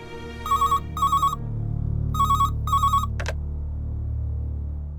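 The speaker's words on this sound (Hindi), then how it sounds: "एक काम करता हूँ, घर पे कॉल करके पूछता हूँ।" A telephone ringtone plays on a call home in a Hindi TV serial: two pairs of bright, warbling ring bursts over a low background hum, followed by a short high click as the line connects.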